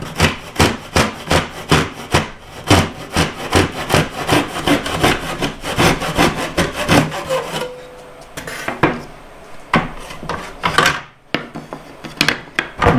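A hand saw cuts wood in a miter box with loud, close, rhythmic back-and-forth rasping strokes that slow and turn irregular toward the end as the cut finishes, with no talking.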